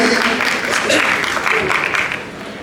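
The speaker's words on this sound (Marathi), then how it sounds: "एकदा नवरा मुलगा आला तर जोरदार टाळ्या अभिजितसाठी" At a Marathi film trailer launch, a crowd applauds the arriving groom Abhijit with loud, sustained clapping mixed with cheering voices and a busy hall ambience.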